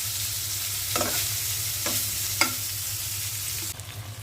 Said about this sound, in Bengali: মাছটা উল্টে দিচ্ছি।